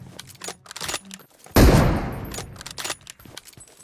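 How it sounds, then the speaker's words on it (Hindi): Gunfire rings out in the BGMI battle royale mobile game: one loud, sharp burst that decays over about a second, surrounded by quieter clicks and distant shots. "गोलियां चल रही हैं"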